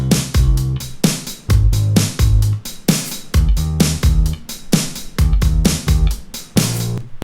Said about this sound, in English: A simple bass line which is not too busy.